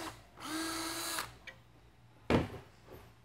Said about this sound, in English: it's a 1/4-inch drill bit, and you want to get a really long drill bit